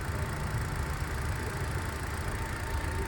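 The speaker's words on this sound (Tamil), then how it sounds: "ஐட்லிங் அவ்வளோ ஸ்மூத்தாக இருக்குது." A used car's engine idles smoothly at rest, a soft, steady low hum with an even, unchanging drone and no knocks or surges.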